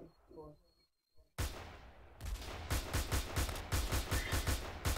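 Sniper rifle shots from the M9K weapons addon in a game: loud, sharp cracks fire in a rapid rhythmic string after a brief quiet gap. A voice speaks faintly before the shooting starts.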